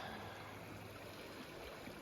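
Creek runoff water at an overflow area along a Rocky Mountain trail near Nordegg flows in a faint, steady rush with no voices.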